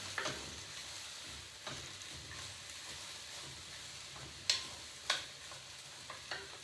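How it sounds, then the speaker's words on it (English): Vegetables sauté in a pan for a curry and rice dish, giving a faint, steady sizzle with occasional scrapes and clinks of stirring, two sharper utensil taps standing out near the end. "let's just go ahead and saute the veggies"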